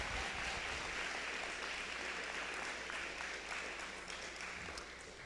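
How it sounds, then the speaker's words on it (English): Applause from a board of education meeting audience. Faint, steady clapping sustained for several seconds, heard from a distance in a hall, gradually tapering. "One more round of applause for Windsor."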